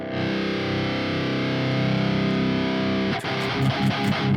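Electric guitar through an amp with the gain turned up high, for a metal tone: a sustained, heavily distorted chord rings loud and dense, then gives way to choppy, palm-muted chugging strums near the end.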